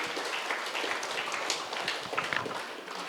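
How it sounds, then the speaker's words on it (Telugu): An audience applauds Sadananda Yogi Maharaj at the anniversary celebration of the Sri Ramana Maharshi Pyramid Meditation Centre in Gudivada, giving a dense, steady wash of clapping heard a little distant throughout. "సదానంద యోగి మహారాజ్కి ఒకసారి గట్టిగా చప్పట్లు"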